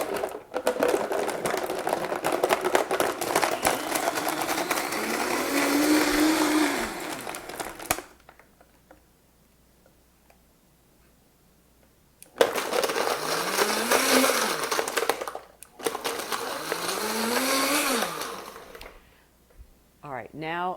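An old Vitamix 500 blender runs at full speed crushing ice, a loud grinding whir in two long bursts separated by a quiet pause, with the motor pitch audibly rising and falling.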